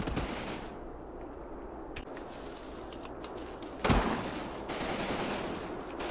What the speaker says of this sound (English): Shooting at the snipers coming down the hill, and I think we're suppressing them